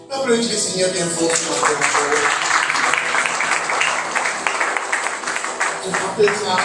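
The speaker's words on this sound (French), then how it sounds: "Applaudissez le Seigneur bien fort." A church congregation applauds loudly during a worship service, with dense, sustained clapping that rises and carries on for several seconds, mixed with voices and cheering.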